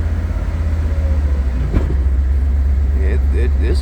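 A Mercedes R129 revived after sitting ten years, its engine rumbling low and steady as the car creeps in reverse on hard, worn tires, with brief clunks and voices talking over it.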